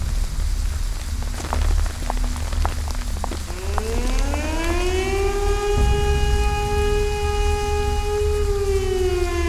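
Alarm siren in an animated series wails upward and holds a loud, sustained tone over a patter of rain-like noise and scattered clicks, with no speech.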